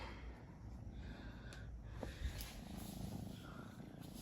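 A small kitten purrs softly and steadily at close range, a low continuous rumble with faint breathy snorts and no talking over it.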